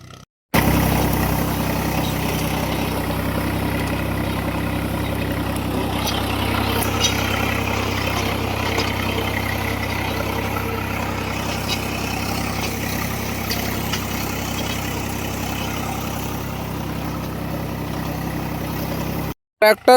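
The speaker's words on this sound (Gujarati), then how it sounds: "ટ્રેક્ટર પણ આવી ગયું છે ખેતર ખેડવા માટે" A tractor engine rumbles steadily at close range while ploughing a field, a continuous heavy drone that holds for the whole stretch before cutting off.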